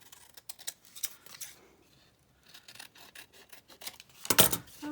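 Scissors cutting paper while a tag mini booklet is made, with soft snips and rustling of the paper close by, quiet overall, ending in a louder handling rustle.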